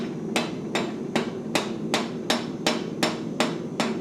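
Hammer blows upsetting a piece of metal held in a vise: ten evenly spaced, sharp ringing strikes at a steady rhythm, close and clear, with no voices.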